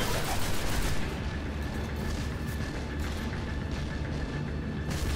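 Sustained enemy gunfire rattles through a boss fight against Sekrion, Nexus Mind in the Destiny Venus strike, a dense continuous barrage with heavier booms near the start, loud and steady without any voice on top.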